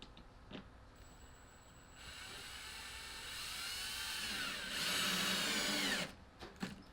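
A power drill drives screws into a folding Murphy bed in a travel trailer, a whining motor spinning up in a couple of sustained bursts that rise in pitch, then stopping, close and alone.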